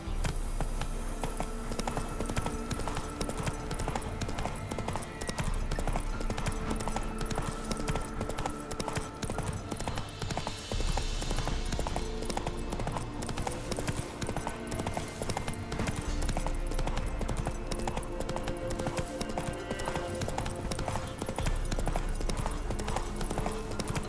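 Roach, the horse in The Witcher 3, gallops at a steady pace through a dense, continuous game soundscape, with hoofbeats running throughout under music and ambience.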